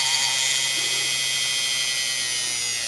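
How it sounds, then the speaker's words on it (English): A small drill bores a hole through polymer clay, giving a steady high-pitched whine that holds evenly throughout, close by and without speech. "I'm going to drill as far as I can."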